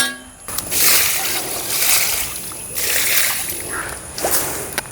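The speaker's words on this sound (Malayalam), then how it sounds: "ഇത്തിരി വെള്ളം ഒഴിച്ച് നോക്കട്ടെ" Water poured out onto soil in a village yard, a steady splashing wash lasting several seconds in loose surges, fairly close, with brief pauses between pours.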